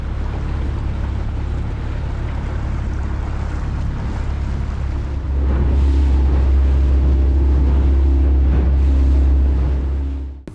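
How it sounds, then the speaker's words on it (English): A dinghy's outboard motor drones steadily across a harbor in Wrangell, Alaska, heading to the fuel dock. The loud, continuous engine rumble swells louder about halfway through, with wind and water rushing alongside. "we are going to just head over to the fuel dock and pick up the oil"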